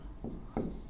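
Two short strokes of a marker or chalk on a board during a chemistry lesson, each a quick scratchy squeak in a quiet room.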